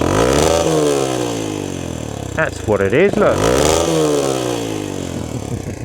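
A Honda NX 125 motorcycle exhaust revs and drones steadily up close, pitch rising and falling, while someone speaks briefly over it.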